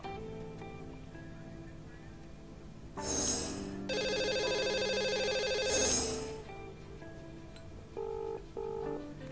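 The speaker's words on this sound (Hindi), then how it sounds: "चलिए बिल्कुल देर न करते हुए लगाते हैं नंबर आज के लकी कॉलर को।" A telephone line dialed from a live TV astrology show to reach a caller: a loud burst of ringback tone rings for about three seconds, followed later by short, quieter tone beeps over faint background sound.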